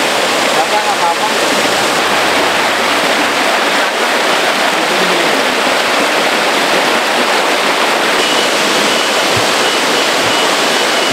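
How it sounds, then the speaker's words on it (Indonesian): The Curug Kembar Batu Layang twin waterfalls roar loudly and steadily, a dense, close wash of falling water that fills the whole scene without letup. "Sini ada air terjun, di sana ada air terjun."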